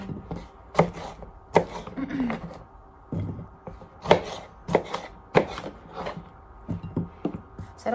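A knife chops food into large square pieces on a cutting board in a home kitchen, giving sharp, irregular thuds in quick bursts, close by and clear, with a voice talking faintly between the cuts.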